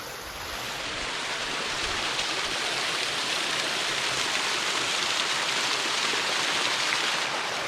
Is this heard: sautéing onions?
no